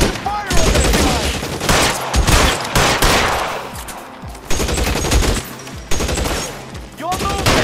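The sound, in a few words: gunfire in the video game LA Noire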